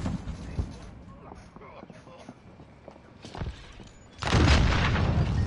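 A grenade explodes in a Resurgence trios battle royale video game, a loud, sustained blast near the end that follows quieter gameplay noise and a talking player.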